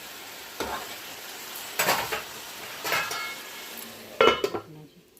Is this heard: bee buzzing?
no